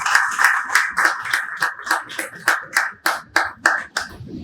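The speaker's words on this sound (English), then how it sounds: "Let us welcome him with a huge round of applause." Sparse, rhythmic hand clapping at a book launch event welcoming a guest, roughly a dozen distinct claps in a steady, fairly close pattern, more like a few people clapping than a full crowd.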